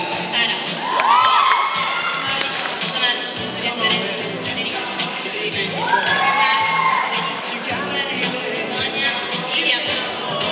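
A lively crowd at a beauty pageant cheers and whoops continuously, with scattered high shouts rising above the steady roar.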